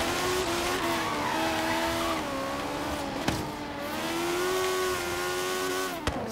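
A racing car in Forza Horizon 3 drives hard with a loud, steady engine whine that rises and dips, and brief gear-shift clicks break the drone twice.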